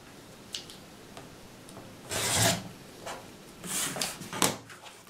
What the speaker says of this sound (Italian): Una volta cucito, andiamo a tagliare sulla diagonale disegnata.